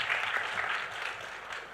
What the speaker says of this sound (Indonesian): beri tepuk tangan dulu dong teman-teman kita di sini.